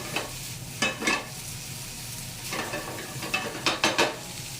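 Chorizo, chicken and rice sizzle steadily in a pan, broken by several bursts of scraping as a utensil stirs and turns the mixture, close and fairly quiet with no talk.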